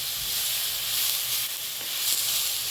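Rice roasting in a pan for a coriander and green pea rice dish, a steady soft hiss and faint sizzle running continuously at a fairly even level, close by and with no talking.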